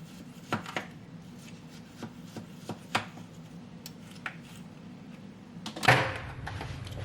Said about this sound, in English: I'm gonna cut this in about 6 sections before I put it in there